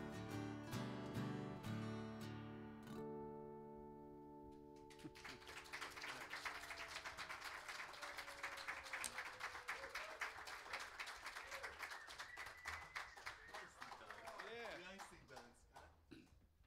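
An audience claps at a live concert in Redmond. The music fades out as a broad wash of dense clapping swells and holds, fairly close and loud, before thinning toward the end.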